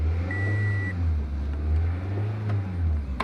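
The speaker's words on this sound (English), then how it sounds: "Start it up. Give it a few revs." A Toyota car engine running with a strong low hum that swells and eases as it is revved, a short high beep early on, no speech.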